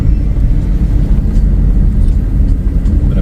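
Cars on a road on the way to Bukit Anak Dara hill give a steady, loud low rumble that fills the whole stretch without a break. No one speaks over it.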